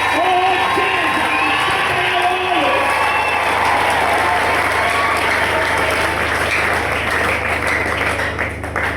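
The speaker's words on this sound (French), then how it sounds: "Acclame très fort à l'honneur" Church congregation at a morning prayer marathon breaks into loud sustained applause with cheers and whoops, a dense crowd roar that stays steady for several seconds, with voices shouting through it.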